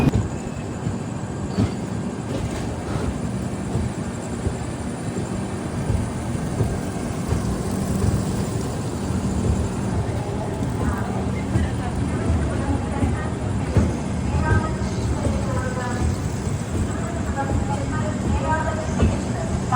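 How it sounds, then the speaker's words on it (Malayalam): The Thiruvananthapuram–Veraval Express, in a 2AC coach, pulling into Shoranur Junction seven minutes late: a continuous low rumble of wheels and carriage noise, with voices talking faintly over it. "വെരാവൽ എക്സ്പ്രസ് ഒരു 7 മിനിറ്റ് ലേറ്റായിട്ടാണ് ഷൊർണൂർ ജംഗ്ഷനിലേക്ക് കയറുന്നത്"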